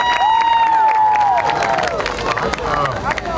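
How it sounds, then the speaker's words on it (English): An audience at a big band jam concert applauds and cheers, a dense wash of clapping with whoops, while a sustained brass note rings out at the start. "let's give it a big round of applause."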